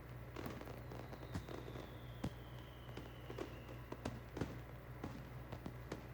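Fireworks go off outside in the Katawa Shoujo visual novel: faint, scattered pops and thuds over a low steady hum, heard as if from a distance.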